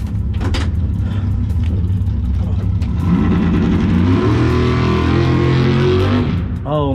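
A race car on its first pass rumbles and then revs hard, the engine note climbing steadily and loud close by before cutting off abruptly at the end.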